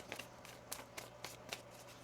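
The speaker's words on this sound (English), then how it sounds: "One more shuffle here." A deck of tarot cards is shuffled by hand, giving quiet, crisp riffling snaps at a steady beat of about four per second, close and soft over a low background hum.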